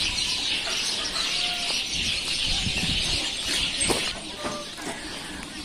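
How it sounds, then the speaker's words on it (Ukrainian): A noisy poultry yard in a park holds clucking chickens and other fowl, with overlapping calls, squawks and chatter close by that keep up throughout as a busy bird din. "Ну і відповідно тут дуже шумно, як на будь-якому пташиному дворі."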